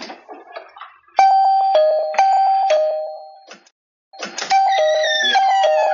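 A doorbell rings loudly in repeated bright ding-dong chimes, a melodic burst of tones that stops briefly and then sounds again, with no one talking.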